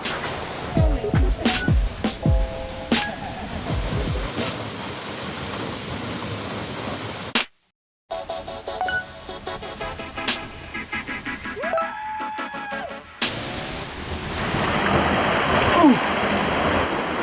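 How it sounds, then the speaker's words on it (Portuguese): A waterfall pours down a sedimentary rock wall at Arapoti, Paraná, a steady broadband roar heard close, with short breaks and handling noises interrupting the continuous rush. "Bonitona a cachoeira, né? Caindo por um paredão de rocha sedimentar."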